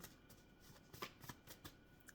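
A deck of card-reading cards is shuffled by hand close up, giving soft, quiet papery riffles and slaps in an irregular run with no talking.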